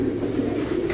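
Pigeons in a racing pigeon loft give a steady, close, low cooing murmur that runs without break and without any talk.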